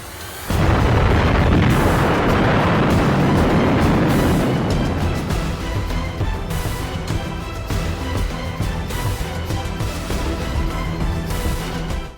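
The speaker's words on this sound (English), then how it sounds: "those magazines would detonate, causing a horrific explosion." Massive explosion as the forward magazines of the battleship USS Arizona (BB-39) detonate, a loud sudden boom that swells into a long, roaring rumble with crackling debris and no voices.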